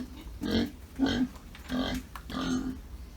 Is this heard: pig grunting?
yes